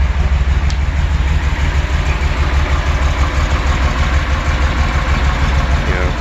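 A Porsche 911 engine idling after a cold start, a loud, steady, low mechanical drone with an even rumble and no change in revs, heard close and alone.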